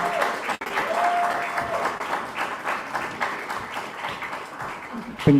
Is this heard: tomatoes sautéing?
no